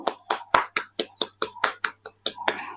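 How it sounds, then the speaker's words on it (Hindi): Hands clap in a steady, brisk rhythm, about a dozen sharp, close claps in under three seconds, during a group exercise session. "ताली बजाएंगे।"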